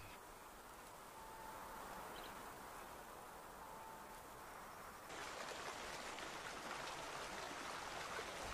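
A river flows steadily through a forest, a faint continuous rushing hiss with no voices.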